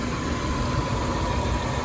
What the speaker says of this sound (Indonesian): 4 silinder, mesinnya masih halus, mesinnya seperti ini